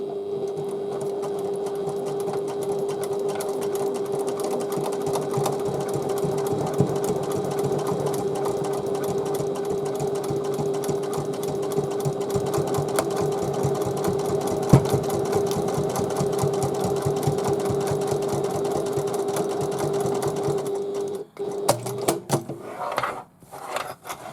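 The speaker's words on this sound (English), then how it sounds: "So I shall stitch down the sides and come back to you." Sewing machine stitching down the sides of an Emmaline bag at a 1/4 inch seam allowance: a steady, close, continuous motor whir with fast needle ticking, stopping and stuttering near the end.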